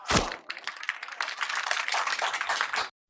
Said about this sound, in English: As the crowd claps